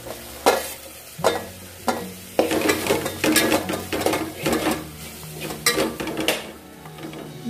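Ginger garlic paste and turmeric being sautéed in a pan for a crab curry, with a spoon scraping and clinking against the metal in repeated strokes over a soft sizzle.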